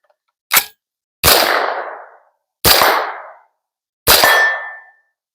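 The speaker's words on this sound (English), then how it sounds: "let's take the couple quick shots and see how she sounds with hearing protection" Four sharp AR-15 rifle shots in a rare caliber ring out one at a time, a short first report and then three louder cracks, each trailing a brief echoing decay, with about a second and a half between them.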